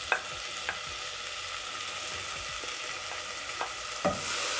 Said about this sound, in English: So to my pot, I'm going to add tomatoes.